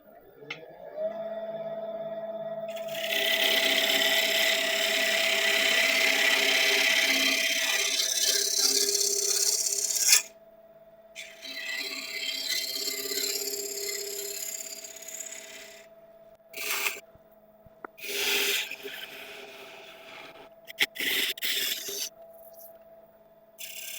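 A woodturning tool smooths the inside of a wooden bowl spinning on a lathe, a sustained close scraping rasp over a steady motor hum, cutting off midway and then returning in shorter intermittent passes.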